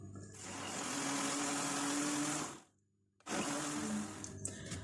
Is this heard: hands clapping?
no